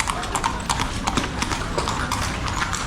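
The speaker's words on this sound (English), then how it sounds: "Wow, that's a big horse." A large horse clip-clopping along a street in Vigan City, Ilocos Sur, with close, rhythmic hoofbeats over steady outdoor background noise.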